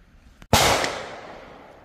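Taurus M44 .44 Magnum revolver firing a 180 grain Hornady bullet into gel outdoors, a single sharp loud report with a decaying echo after a faint click.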